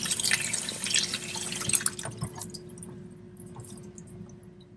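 Water gushes and drips from an air conditioning condensate pump being flushed out after a blockage, a wet splashing burst that tapers into fainter trickling and drips.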